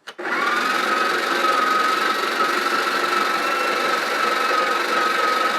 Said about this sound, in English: it's time to give this grinder a test here